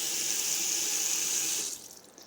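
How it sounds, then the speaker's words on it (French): Water pours from a tap into a pan holding butter to start a sauce for roast pork, a steady close rush lasting under two seconds before it cuts off. "je rajoute un peu d'eau pour faire un fond de sauce"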